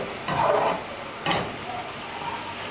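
Ground poppy seeds dropped into onions frying over a lowered flame and stirred, two bursts of sizzle and scraping close by, then a quieter steady fry.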